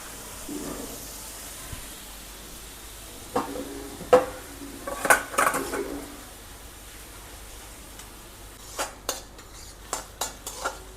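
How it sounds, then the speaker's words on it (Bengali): Onion, tomato and green chilli being stirred in a pan, with scattered scrapes and clinks of a utensil against metal, loud in a cluster midway, then quieter taps over a faint hiss. "এর পেঁয়াজটা টমেটো, পেঁয়াজ, কাঁচা লঙ্কা এগুলোকে একটু হালকা নাড়াচাড়া করব।"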